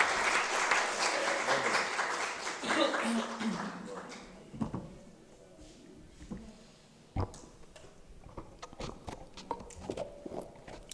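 Loud applause rises from a Hindi poetry gathering's audience as poet Swadesh Yadav is welcomed onto the stage, thick clapping for about four seconds that fades to a few scattered claps, with people talking and movement afterward.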